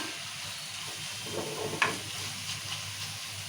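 Tomatoes with amaranth greens simmering in a pan for a Telugu thotakura tomato curry, giving a faint, steady low sizzle with a few soft stirring scrapes close by.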